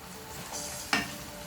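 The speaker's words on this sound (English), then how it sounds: "ripe tomato, that I'm going to add into the onions and the peppers here. Give it a stir as well." Chopped ripe tomato, onions and peppers are stirred together in a frying pan, giving a faint, steady sizzle with one sharp, brief scrape of the spoon partway through.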